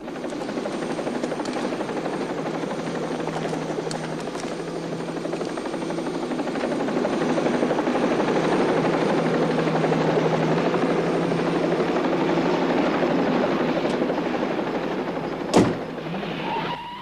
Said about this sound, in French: Faites-les monter dans l'hélico.